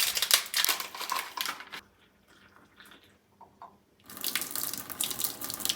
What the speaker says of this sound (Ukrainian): І перша заварка у нас буде зливатися.